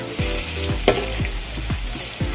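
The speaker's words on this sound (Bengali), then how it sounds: "একদিকে হালকা ভাজা হয়ে গেছে আমি এবার উল্টিয়ে দেবো" Lentil fritters (dal piyazi) bubble in hot oil as they are turned over, a short, loud, close crackling sizzle with a few sharper spatters, and no talk.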